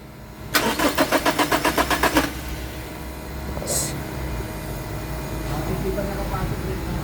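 A 2019 Toyota Fortuner engine cranks with a quick rhythmic churning for about two seconds, then catches and settles into a low, steady idle nearby, with a brief faint chirp afterward.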